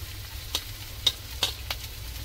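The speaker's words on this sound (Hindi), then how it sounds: "अब मैं लहसुन ऐड करूंगी," Chopped garlic, ginger and dried red chilies fry in hot oil for a spicy potato dish, giving a steady faint sizzle with a few soft stirring clicks and no talk.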